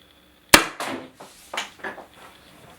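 A Colt M16 with M203 grenade launcher firing a rubber round indoors: one sharp loud crack followed by several decaying thuds and rattles as the round bounces around the room.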